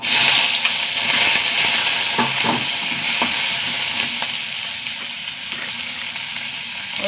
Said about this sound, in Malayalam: കുറച്ച് ഉലുവിട്ട് കൊടുക്കാം. കുറച്ച് ചെറിയ ഉള്ളി ഇട്ടോ.